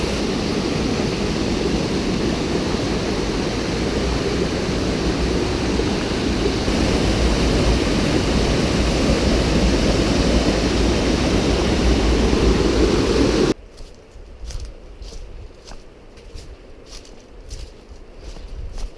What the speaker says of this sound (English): We came up upon this really nice waterfall.